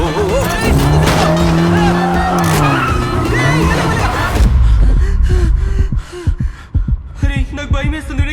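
A car drifts with screeching, skidding tires and loud engine roar, ending in a crash into a statue; the din is loud and continuous, then breaks into scattered impacts and gasps.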